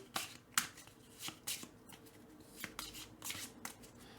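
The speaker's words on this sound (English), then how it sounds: "Give this a really good shuffle once again." A deck of Lord of the Rings: Battle in Balin's Tomb game cards being riffled and shuffled several times, with crisp bursts of flapping card noise separated by short pauses, close and fairly quiet.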